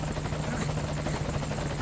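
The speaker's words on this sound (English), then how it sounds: "There's our chopper." A helicopter in the video game Metal Gear Solid 5 Ground Zeroes arrives, its steady rotor drone loud and continuous throughout, with a low hum and bright whirring overtones and no talk over it.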